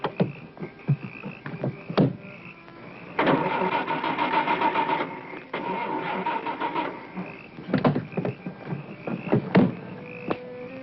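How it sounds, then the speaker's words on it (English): A car engine cranks but won't catch, with two sustained grinding bursts of a few seconds each separated by a short pause, loud and close, amid scattered knocks and rustles. "my car won't start and I have to catch a plane."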